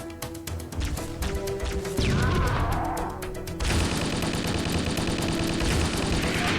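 Assault rifle gunfire in a 2D Halo fangame, rapid automatic bursts of crackling shots with crashing impacts and a louder sustained volley in the second half, close and dense.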